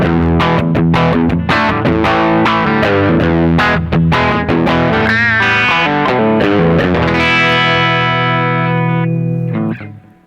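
A Telecaster electric guitar played through a Nobels ODR green overdrive pedal, a loud run of driven picked notes and chords that ends in a long sustained chord and a brief final strum.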